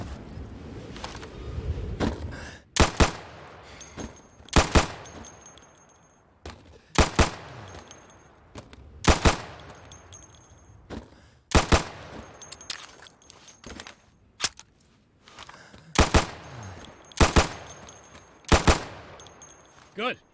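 Sidearm pistol fire at pop-up targets in an indoor training warehouse in Insurgency: sharp single shots and quick pairs at regular intervals, loud and echoing, with faint mechanical target sounds in between.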